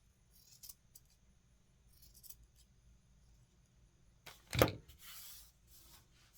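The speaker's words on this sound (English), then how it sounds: "I'm going to now tidy up the skirt by cutting off any loose strings" Scissors snipping loose threads off a doll dress skirt, a few faint quiet snips followed by one louder close cut and a short rustle, in an otherwise quiet room.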